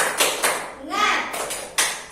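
A classroom of pupils beats out a rhythmic group clap, a few sharp bursts of claps spaced apart with a teacher's and children's chanting voices in between.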